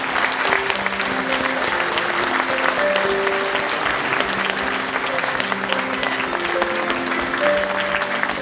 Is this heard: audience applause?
yes